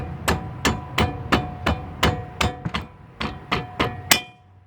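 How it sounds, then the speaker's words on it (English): Rubber mallet strikes wheel bearing parts during a front wheel bearing replacement, about a dozen sharp, evenly spaced blows, close and loud, with no talk over them. "now I'm still hitting with the rubber mallet"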